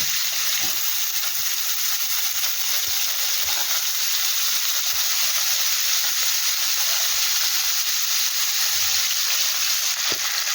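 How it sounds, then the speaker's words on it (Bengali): Boiled young jackfruit pieces fry in hot oil, giving a continuous, even sizzling hiss with occasional soft pops and no talking. "আমি একটু এঁচোড়টাকে ভেজে নেব"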